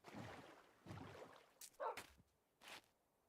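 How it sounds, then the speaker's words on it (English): A dog landing on ice in a game makes a few faint, short dink-like taps amid quiet scuffles, with brief soft thumps and a couple of sharp high clicks spaced over a few seconds. "Oh, that was the dog landing on the water, or on the ice rather."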